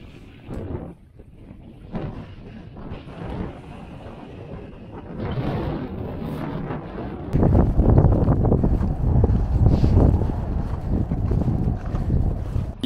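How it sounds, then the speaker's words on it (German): Steady, roaring wind sweeping over a glacier on the Weißkugel mountain buffets the microphone, growing louder and gustier partway through, with no voices. "Oder über einen Gletscher, wo der Wind jetzt ganz schön drüber pfeift."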